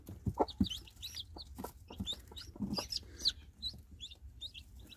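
A hen clucks near her newly hatched chicks in a brooding pen, low clucks repeating while high, thin chick peeps flutter rapidly above them, close and fairly quiet.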